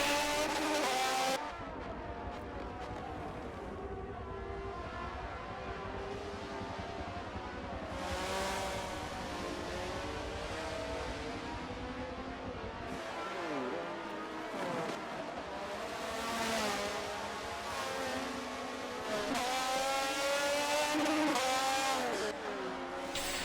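Race car engine in an IndyCar sim-racing qualifying lap at Watkins Glen, heard on board: loud continuous engine note rising and falling through gear shifts and revs, with brief tire scrubbing, no talk.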